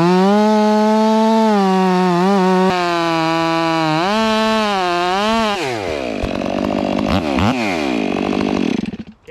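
A Stihl 500i chainsaw runs loud and close while cutting up a tree, its engine pitch rising and falling as it bogs into the wood, then revving freely before cutting off at the end.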